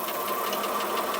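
A sewing machine runs steadily while stitching fabric, a fast, even mechanical whirring and rhythmic needle chatter heard up close with no talking.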